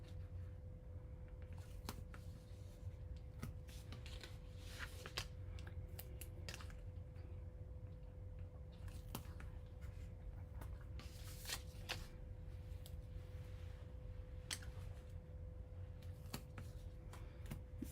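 Tape is torn and pressed onto a handmade box in a quiet room, giving soft crinkling, scraping and tapping handling sounds with scattered sharper ticks over a steady low hum.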